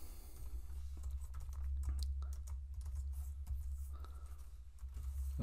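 Computer keyboard typing, a quick run of soft key clicks over a low steady hum, close but faint, with no one talking.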